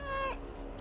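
A cat meows once in Dragon Age: Origins, a short, close, tonal cry lasting under half a second, followed by quiet game ambience.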